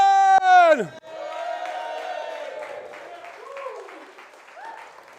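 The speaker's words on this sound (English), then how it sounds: "let's give it up for Julie Watson" A loud falling whoop opens the moment, then a poetry slam crowd at a summer street festival fills the space with steady applause, scattered cheers and shouts, fairly close.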